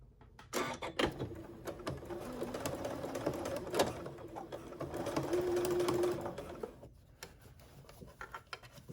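A sewing machine stitches along the top edge of a fabric trick-or-treat bag, its needle whirring in short runs and then in a longer steady burst, with mechanical clicks between runs and no talk.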